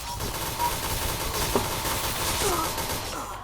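Rapid gunfire bursts in a shooting video game, continuous crackling shots layered with game effects at moderate level, with faint voices underneath.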